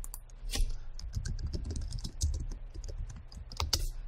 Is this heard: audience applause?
no